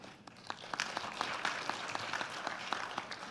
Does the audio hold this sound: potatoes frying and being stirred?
no